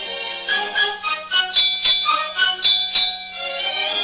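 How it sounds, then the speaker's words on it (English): A ship's bell struck four times in pairs, the rings bright and metallic with overlapping decays, loud and close with a faint steady hum beneath and no talking. "4 bells and all's well."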